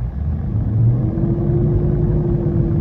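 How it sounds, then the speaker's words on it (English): A 2016 Toyota Landcruiser VX 200 series engine gives a quick rev, a low rumble that rises briefly and then settles into a steady, throaty idle close by. "Now give the car a quick rev."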